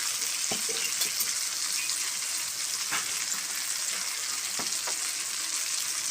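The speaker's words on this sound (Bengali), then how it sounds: "টমেটোটা ভাজা হয়ে আসছে" Tomato and spices sizzle steadily in a pan for dry cabbage ghonto, a Bengali dish, with a few sharp stirring clicks and scrapes cutting through the constant frying hiss.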